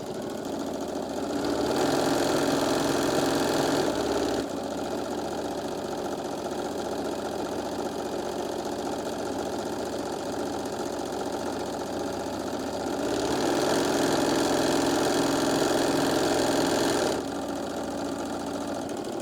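A sewing machine stitches an eighth-inch seam around the edge of fabric for a mini iron travel case, running in two louder steady bursts over a continuous mechanical hum.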